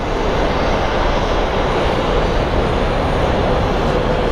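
A Boeing 737 NG jet airliner roars at Sky Harbor International Airport in Phoenix, a loud, steady, broadband engine rumble filling the whole stretch with no break and no voices.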